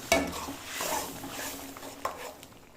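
Fried potatoes stirred into ghugni in a pan, with a spoon scraping and clinking against the metal over a soft sizzle, close up, a sharp knock at the start and another tap near the end.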